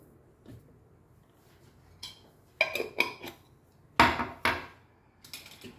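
A utensil stirs curry in a pan, making several short scraping and clattering strokes in irregular bursts against a quiet kitchen background.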